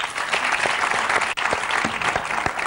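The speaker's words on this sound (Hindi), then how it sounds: "अब्बास मस्तान जी के लिए जोरदार तालियां हो जाए एक बार" Loud, dense studio audience applause on a comedy talk show, continuous and close throughout with a brief dip midway.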